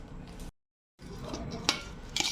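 A spoon scrapes and clinks against a pot while salt and spices are mixed for mango pickle, a few close clatters and sharp knocks around a brief silent gap.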